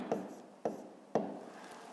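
Handwriting a fifth-grade math exercise, three quick pen strokes or taps on paper evenly spaced about half a second apart, each trailing into a faint scratch.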